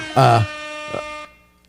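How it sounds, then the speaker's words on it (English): Two short, loud blasts of an air horn effect from a soundboard during a live studio stream, the first longer and stronger, the second briefer, with speech around them. "he loves that air horn gimmick"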